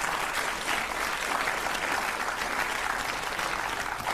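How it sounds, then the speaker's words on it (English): Steady applause from a studio audience on the Countdown quiz show, filling the whole stretch at an even level with a dense wash of clapping and no voices over it. "I feel another round of applause coming in."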